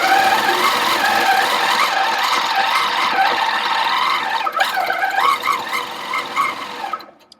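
A Handi Quilter Sweet Sixteen sit-down quilting machine stitches steadily at 10 stitches per inch, a close, continuous whirring hum with rapid needle chatter, slowing and stopping at the end.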